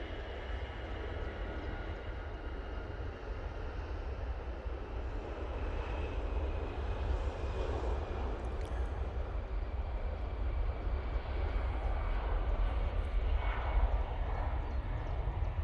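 An Airbus A320ceo on its takeoff roll at Manchester Airport produces a distant, low, steady engine rumble that slowly builds over about fifteen seconds, fairly faint and alone.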